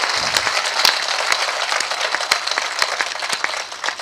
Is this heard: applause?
yes